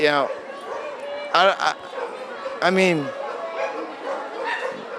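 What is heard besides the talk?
dogs barking at a pet adoption expo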